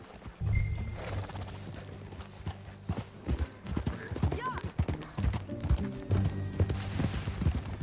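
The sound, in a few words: horse hooves clip-clop, video game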